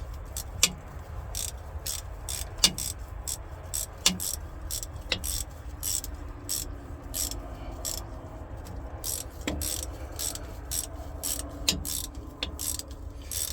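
A ratchet wrench tightens bolts on the hydraulic cover of a Caterpillar 336E excavator, rapid repeated clicking strokes close by with occasional sharper metallic knocks over low background rumble.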